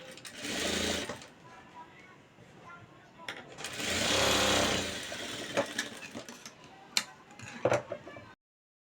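A sewing machine stitches a puff sleeve in two sustained whirring runs, then short stop-start bursts and clicks, close and fairly loud.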